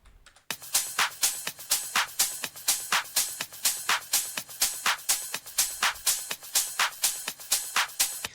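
House-style percussion drum loop in a steady, even pulse, with crisp, bright hits repeating about every half second after a short quiet start. Clear and up front, with no voices.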